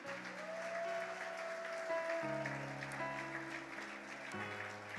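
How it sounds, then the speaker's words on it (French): A church congregation applauds during a French-language worship service, steady broadband clapping with sustained organ or keyboard chords beneath it, moderately loud and continuous. "Applaudissons le Seigneur Jésus."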